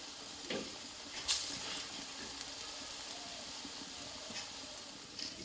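Chapri fritters frying in oil, a soft continuous sizzle and hiss with occasional pops and faint stirring clicks, heard close but quiet.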